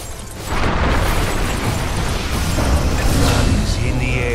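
A tower collapses in Dota 2 with a loud, rumbling crash and debris noise that holds for several seconds over the busy sounds of the match.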